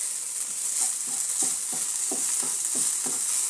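Cooked okra with turmeric is stirred in a pan, a spatula scraping in a regular rhythm of about ten strokes over a soft continuous sizzle, close and alone.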